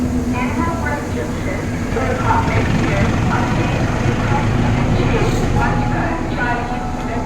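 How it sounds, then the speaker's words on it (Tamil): Double-decker AC express train running between Ahmedabad and Vadodara, heard as a steady close rumble with rattling rail noise throughout, with voices talking over it. "இதுதான் டபுள் டக்கர் எக்ஸ்பிரஸ்"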